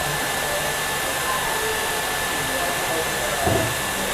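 Dyson and Gama hair dryers run side by side with a steady, loud, airy whir and a faint high whine throughout, with a brief small bump near the end.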